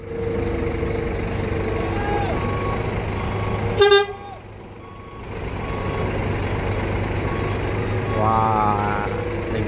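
A large bus moving through a busy bus terminal at night, its engine rumbling steadily with a short, loud horn toot midway and people talking in the background.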